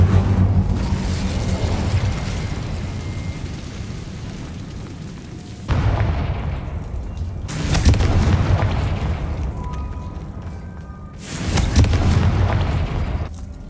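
Incendio fire spell in Hogwarts Legacy, a roaring fiery whoosh followed by three booming bursts that each swell and fade, loud and close over a constant rumble.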